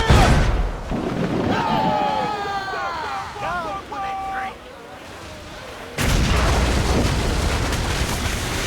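Naval cannon fire from sailing ships in Assassin's Creed Freedom Cry, heavy booming blasts with rumbling noise, shouted voices and music in between and a loud broadside at the end.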